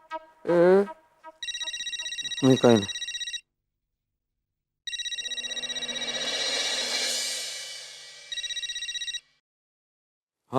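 A telephone rings in repeated electronic bursts at night in a Hindi-language domestic scene, with short spoken lines breaking in between the rings.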